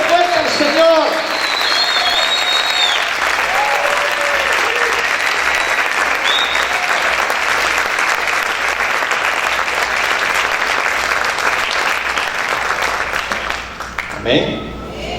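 A church congregation claps loudly and continuously in a dense, sustained burst of applause for about fourteen seconds. A voice is briefly heard near the start, and the clapping tapers off at the very end.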